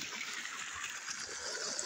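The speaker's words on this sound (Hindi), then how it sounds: "पानी स्टार्ट हो गया है, बहुत दूर से पाइप आ रही है" Water from a long pipe pours into a farm field, a steady, broad rushing and trickling wash that holds evenly throughout with no voices.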